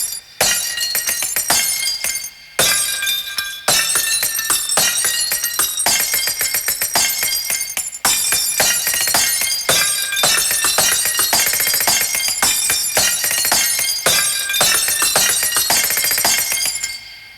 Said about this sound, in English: it can sound even stranger using the sound of a breaking bottle